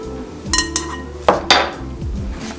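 A metal spoon clinking against a bowl while a spoonful of mustard goes in for garlic macaroni and cheese, several sharp close clinks and taps in quick succession over a low kitchen hum.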